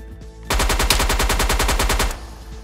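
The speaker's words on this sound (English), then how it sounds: "Is he trying to shoot me through a wall?" Rapid automatic gunfire in the survival video game DayZ, a loud, sustained burst of closely spaced shots lasting about a second and a half before cutting off, with no talking.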